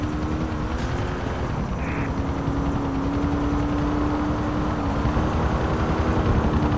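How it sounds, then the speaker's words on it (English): Continuous helicopter rotor drone in GTA IV, steady and fairly loud, holding a constant pitch with no voices. "Got a police Mavericks and an army helicopter."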